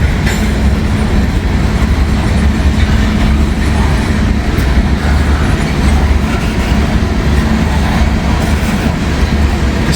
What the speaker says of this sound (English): Just picking up some good speed like a Norfolk Southern train should go on CSX.